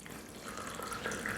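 Tap water poured for Lipton tea, a faint, steady liquid hiss that runs evenly and quietly from start to finish.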